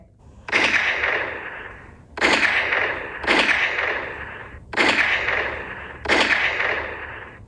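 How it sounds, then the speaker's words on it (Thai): Five loud shotgun blasts ring out one after another at roughly even intervals, each a sharp crack followed by a decaying echo. "เสียงปืนลูกซองห้านัด จากสองชายชะกัน รัวทียิบ"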